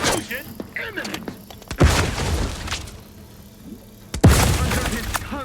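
Explosion in the video game The Outer Worlds 2: two sharp, loud booming blasts with debris crackle, the first near the two-second mark and the second about two and a half seconds later, amid game combat noise.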